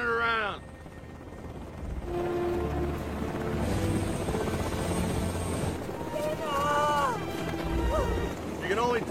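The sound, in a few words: helicopter in film scene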